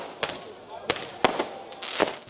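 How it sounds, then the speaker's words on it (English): Fireworks going off at a celebration for the Super Eagles football team in Nigeria, with several sharp bangs spaced irregularly over a noisy crowd-like background, moderately distant. "The fireworks could have been louder"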